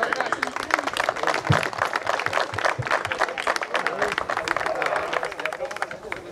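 Applause for the group at a shepherding trial event, as people gather for a photo; scattered hand clapping mixed with crowd chatter, footsteps and an outdoor bustle, fairly close and continuous.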